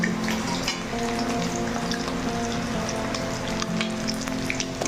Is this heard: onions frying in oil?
yes